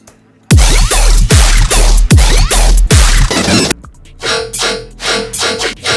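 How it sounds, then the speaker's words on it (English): Loud electronic music plays back in Ableton with heavy sidechain compression, each strong kick pulling the rest of the mix down so the track pumps in a steady rhythm before a quieter, sparser section follows. "Hear that sidechain going."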